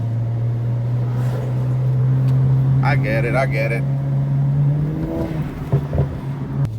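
A BMW E92 335i engine with a 3.5 bar MAP sensor drones steadily, then climbs in pitch as it accelerates uphill, with a brief spoken exclamation partway through.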